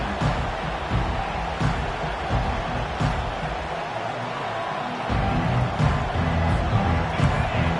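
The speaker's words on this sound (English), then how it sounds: "This crowd bringing an ear-splitting welcome to their visitors" A stadium crowd at a football game roars loudly and continuously, a dense wash of cheering that swells again toward the end.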